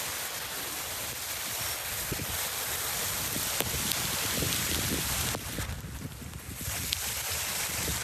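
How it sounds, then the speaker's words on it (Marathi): Heavy rain pours steadily on a mountainside at Harishchandragad, a dense broadband hiss with wind gusts, close and loud throughout with a brief dip midway and scattered drop impacts, no talking. "पाऊस खूप आहे वरती"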